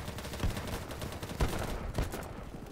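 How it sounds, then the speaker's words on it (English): Gunfire crackles in BattleBit Remastered, a steady rattle of distant shots with three sharper cracks standing out, bullets snapping past at moderate volume. "just see a bunch of bullets flying by"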